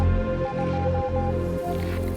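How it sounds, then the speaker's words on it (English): A video game's Morse code signal: short and long bright tones pulse in a rhythmic sequence over a steady droning background, with no voices. "What's the Morse code?"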